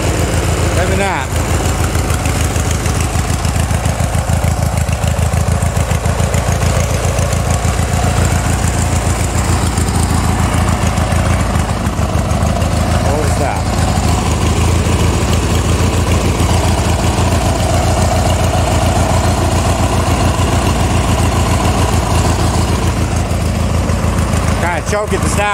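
The engine of a Hydro Scag zero-turn mower runs loud and close at a steady idle for the whole stretch, with a voice now and then partly buried under the constant drone.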